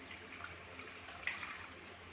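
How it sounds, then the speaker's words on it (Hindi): Liquid streams and trickles out as a sardai mixture of soaked ingredients is squeezed through a cloth. The flow is a soft, steady wet rush with a slight splash in the middle. "इसके जब हम निचोड़ेंगे तो ये पानी भी और इसका अंदर से इसका ये दूध निकलेगा"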